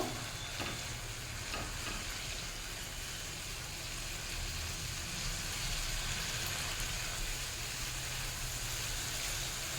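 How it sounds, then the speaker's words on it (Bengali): Mourala fish heads sautéing in a pan as they dry out, a steady, continuous sizzle with faint stirring scrapes running unbroken and fairly loud throughout, with no voices. "এদিকে মাছের মাথাটা প্রায় কষানো শেষ হয়ে এসছে, আর একটু ড্রাই করে করে আমি কষিয়ে নেব।"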